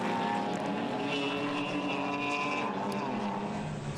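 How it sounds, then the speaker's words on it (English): A BMW race car engine drones loud and steady during a circuit race at Manfeild, its pitch shifting slightly as it holds a sustained, close roar throughout. "So there's our onboard camera car, Charles Dodds."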